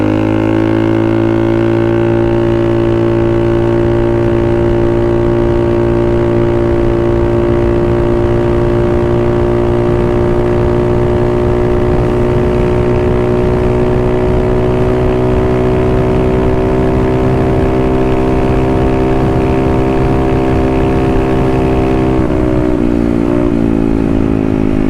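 A Honda Navi scooter fitted with a carb kit runs while being ridden, its engine giving a loud, steady drone with a smooth, rising hum and constant wind rush throughout.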